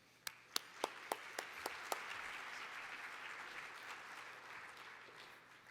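An audience at the Utah Global Forum welcomes a speaker to the stage, starting with a few sharp individual claps before swelling into sustained, moderately distant applause from the crowd.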